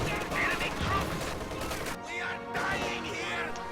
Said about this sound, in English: Shock troops once again making a suicidal push for the central VP, running right into a machine gun and grenades.